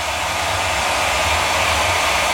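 A hair dryer blows a loud, steady broadband rush of air while hair is being blow-dried, continuous and close with no talking.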